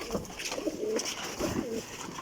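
Pigeons coo softly in low, throaty rolling calls, a few repeated in quick succession at close range.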